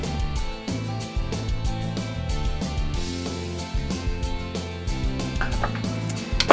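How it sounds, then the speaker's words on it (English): A fork works shortening into flour in a bowl for pie crust. Busy, close clinking and scraping of metal on the bowl repeats steadily throughout, with no talking. "Take our trusty fork and just knead that in there right on top of the shortening."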